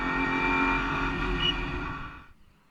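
Britcar endurance race cars at Snetterton accelerating out of a bend, a loud harmonic engine roar building then fading away as the cars pass and recede.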